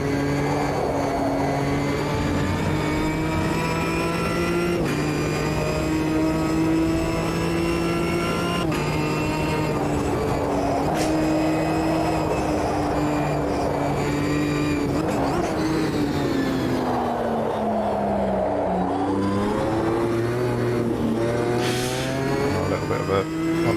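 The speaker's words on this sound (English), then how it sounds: "Love the gearbox noise, the whine of the gearbox as well." A GT4 race car engine in a racing video game drones loud and continuous with a high whining gearbox tone, pitch rising and dropping through gear changes, no voices.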